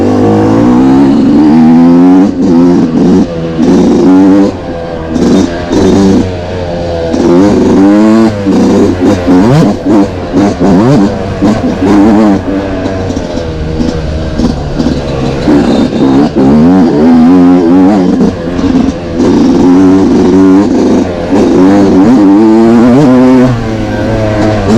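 A 1999 Yamaha YZ250 two-stroke dirt bike rides along trails, its engine loud and close with constant revving, rising and falling pitch as the throttle opens and closes, and no talking.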